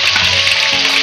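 Garlic and ginger fry in hot oil with chicken wings, making a loud, close, steady sizzling hiss throughout a brief moment.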